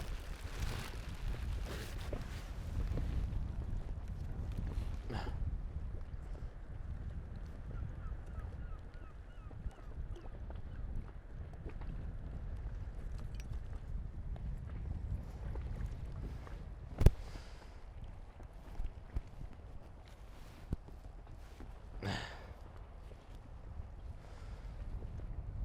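A dinghy rocks on open water in the wind, with steady low rumbling buffets of wind against the microphone and occasional splashes and knocks, and no one speaking.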